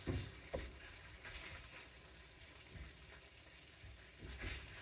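Meat browning in a Dutch oven, a low, quiet sizzle with occasional stirring scrapes and soft knocks at the start and end.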